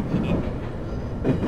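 A JR Tohoku Line train bound for Shiroishi runs in the BVE Trainsim game between Sendai and Iwanuma, giving a steady close rumble with rhythmic wheel clatter and a brief rise near the end.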